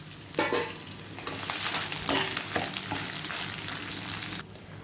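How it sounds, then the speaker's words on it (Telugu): Dried red chillies frying with lentils in a pan over low to medium flame for a garlic spice powder, giving a steady close sizzle with scraping stirs and rattles throughout, no talk. "ఇప్పుడు మిర్చి వేసేద్దాము."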